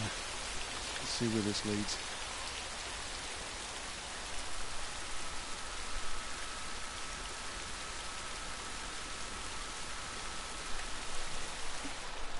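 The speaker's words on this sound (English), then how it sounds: "At least we're out of the rain." Rain falling in The Last of Us, a dense, even hiss of rain on surfaces that lasts throughout, with a brief spoken line near the start and light clicks above it.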